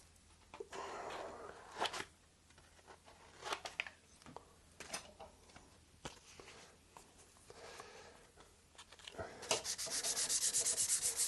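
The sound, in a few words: sanding wood with 600 grit sandpaper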